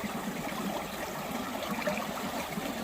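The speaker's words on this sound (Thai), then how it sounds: "น้ำไหลแรงตลอดเลย" A fast-flowing stream in Japan runs toward the sea, rushing and gurgling in a steady close wash with no pauses and no voices.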